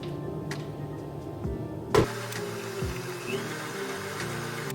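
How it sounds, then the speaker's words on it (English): An electric mixer beats egg whites on medium speed for meringue cookies, giving a steady droning motor whir with one sharp clunk partway through. "Now let's start beating the egg whites on medium speed until they become a little bit frothy."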